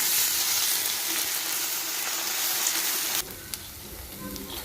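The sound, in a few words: ginger garlic paste frying in a pan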